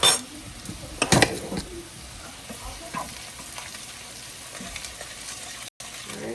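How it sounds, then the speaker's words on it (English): Onions sauté in a pan with a spoonful of brown sugar, giving a low steady sizzle with a brief clatter of utensil against the pan near the start and soft stirring noises throughout. "I'm going to saute this for about 2 minutes."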